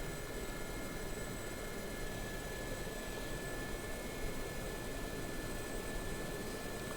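A Gazelle helicopter's engine hums as a steady, even turbine whine with broad rushing noise while the aircraft approaches a taxiway, continuous and fairly distant-sounding.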